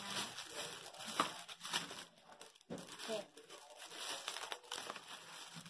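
A foil coin pack's wrapper is crinkled and torn open up close, producing bursts of crackling and ripping, with people talking throughout.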